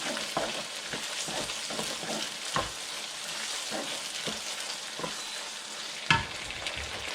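Ground pork frying in a pan for Filipino picadillo, with tomato sauce going in: a steady close sizzle broken by repeated scraping stirs and a sharper clank near the end, with no voices.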